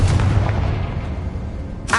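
The Confringo fire spell in Hogwarts Legacy goes off as a heavy booming blast that decays into a rumble, followed by a short sharp burst at the end.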